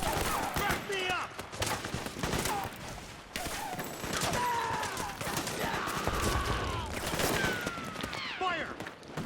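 Heavy battlefield gunfire in Metal Gear Solid 4: Guns of the Patriots, sustained volleys and bursts with explosions, while soldiers shout and voices talk over the fighting.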